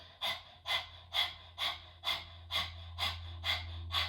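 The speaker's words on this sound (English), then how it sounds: "Now try closing the mouth and doing this through the nose. Great job. This is breath of fire." Breath of fire yoga breathing through the nose gives about eight quick, forceful, evenly spaced sniffing exhales, close and clear over a faint low hum.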